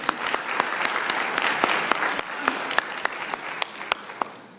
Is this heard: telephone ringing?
no